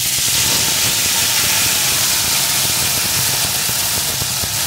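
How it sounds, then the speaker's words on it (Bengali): Masala paste hits hot oil with fried tempering spices in a pan for a vegetarian elephant foot yam curry. It gives a loud, close, continuous sizzling hiss that stays steady throughout, with no talking. "এখন আমি এর ভিতরে পেস্ট করে রাখা মশলাটা দিয়ে দেব।"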